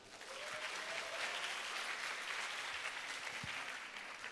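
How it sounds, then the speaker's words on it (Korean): An audience at a university lecture hall applauds steadily to welcome a speaker, with dense, even clapping from a sizable crowd heard from a slight distance, sustained for several seconds without a break. "큰 박수로 모시겠습니다."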